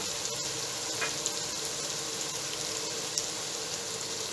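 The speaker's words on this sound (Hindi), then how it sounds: "इसको 10-15 सेकंड भून लें।" Spices frying in a hot pan while cooking behja (lotus stem) fry, a steady soft sizzle with faint crackles and a light clink near the start, continuous and alone.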